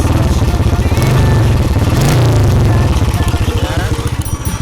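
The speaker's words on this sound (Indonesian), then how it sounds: "Kita dengerin suara mesinnya yang sangat-sangat original itu." A 1996 Honda Astrea Grand motorcycle, restored, runs after a kick start, its engine putting out a loud, close, steady low chugging throb throughout.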